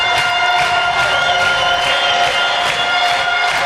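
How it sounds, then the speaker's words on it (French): Spectators at an amateur football final in France cheer and applaud, a dense, loud, continuous wash of clapping and crowd noise with no break. "Voilà son public qui les applaudit."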